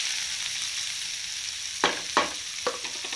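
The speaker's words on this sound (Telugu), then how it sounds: "ధనియాలు వేసి వీటిని బాగా వేయించుకోవాలి।" Coriander and cumin seeds fry in a pan, a steady close crackling hiss with three sharp stirring clicks and scrapes near the end.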